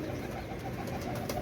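Pakistani pigeons coo softly in a brief, faint burst of low murmuring calls.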